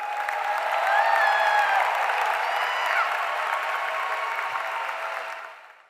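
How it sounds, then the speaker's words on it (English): A graduation crowd gives the class of 2023 a sustained round of applause, with a few whistles rising over the steady clapping before it fades out. "Let's give them a big round of applause one more time."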